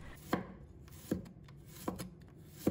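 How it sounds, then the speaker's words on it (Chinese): A knife slices a peeled knob of ginger into thin pieces, four crisp, evenly spaced chopping strikes ringing close and clear with no talk. "准备1块去了皮的生姜，把它切成薄片"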